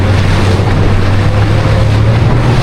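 A chartered speedboat's engine drones steadily and loud as it heads out to sea toward the islands off Thailand, with wind and water rushing alongside; no one speaks.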